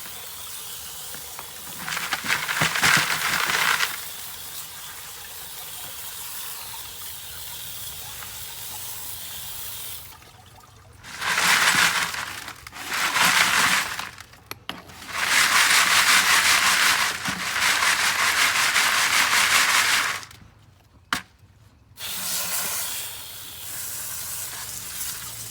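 Water rinses material through a gold prospecting classifier above the Maxie Mine, a steady hissing spray in long bursts broken by short pauses, loud and close with no talk.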